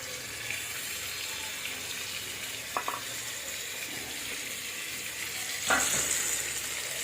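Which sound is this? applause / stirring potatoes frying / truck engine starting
stirring potatoes frying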